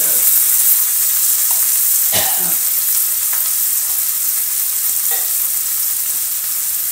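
Tomato paste sizzling and frying in a pan with tender cooked beef, a steady loud hiss throughout with a few soft scraping stirs and clinks, no voices.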